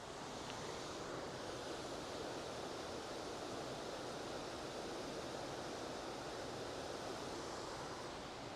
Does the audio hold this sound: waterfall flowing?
yes